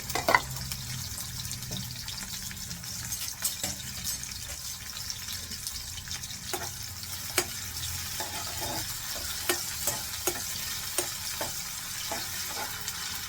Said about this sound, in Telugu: ఆయిల్ హీట్ ఎక్కినట్టయితే వెంటనే మనం ఇలాగా ఆనియన్స్ అలానే పచ్చిమిర్చి రెండు కూడా వేయించేసుకోండి